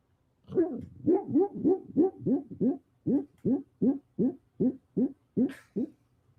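A sleeping dog lets out a long series of soft, evenly spaced howling yips, about a dozen rising hoot-like cries in a steady rhythm, close and alone in a quiet room.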